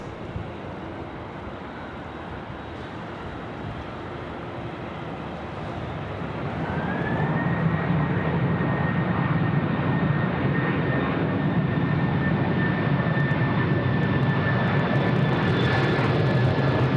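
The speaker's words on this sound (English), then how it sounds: "the A330 now about to join us on runway right" An Airbus A330 lands at Sydney Airport, its jet engine roar steady and distant at first, then swelling louder as the aircraft nears, with a rising whine from the engines carrying on to the end.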